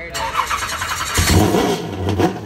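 A late model race car engine with a carburetor revs hard up close, a loud rough roar that surges, dips and climbs again over a couple of seconds.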